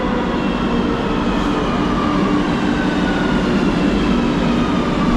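A Madrid metro train arrives at the station with a steady loud rumble and faint rail hiss filling the platform, continuous and close, without talk.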